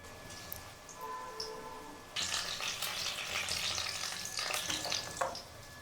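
Paneer pakoras fry in hot oil, a soft bubbling sizzle that swells into a louder, busier crackle partway through, close and steady, with no talking.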